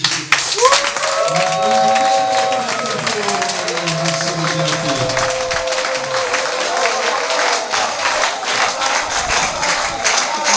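A crowd claps and cheers steadily, with voices mixed in over the applause throughout.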